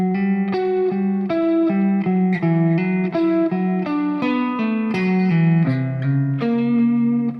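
A clean electric guitar plays a slow melodic lick of distinct picked notes, leaping between strings in a steady, even line.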